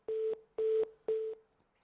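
A telephone line busy tone sounds after a call to a news broadcast drops, with three evenly spaced beeps at a steady pitch that fade at the end, heard alone with no voice.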